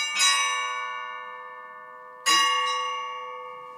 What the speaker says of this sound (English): Visit a church, hear the church bells ringing.